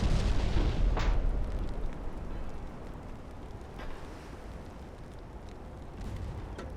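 Torpedoes launching from warships in the naval battle game Ultimate Admiral: Dreadnoughts, heard as a sharp burst near the start and a softer one later, over a steady low rumble of sea and distant gunfire.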